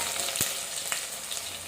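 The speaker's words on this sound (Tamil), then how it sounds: "வெந்தயம் போட்ட உடனே கொஞ்சம் சின்ன வெங்காயம் போடுவோம்." Fenugreek seeds and small onions frying in hot oil for a Kerala-style fish curry, a close, steady sizzle with a couple of sharp spatters or utensil knocks.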